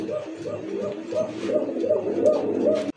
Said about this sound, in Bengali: এই মুহূর্তে দেখতে পাচ্ছেন স্ক্রিনে চমৎকার একটা সিঙ্গেল একটা কবুতর